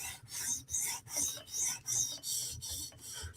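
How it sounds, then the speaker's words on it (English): A Hinderer knife is ground on a 400 grit stone in a TSProf Kadet sharpener, giving steady rhythmic rasping strokes, about seven even back-and-forth passes, close and clear with no talking. "So this will be a quick hit with the 400 grit stone."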